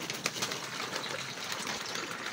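Pigeons at a water trough filled with pump water, part of a racing pigeon setup in Rosario, La Union, with soft cooing amid steady broadband noise and a brief wing flutter early on.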